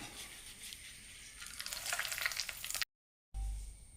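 Hot mustard-seed tempering in coconut oil is poured into a tomato and curd curry, a close, rising sizzle and crackle that swells, breaks off abruptly, then ends with a low thump.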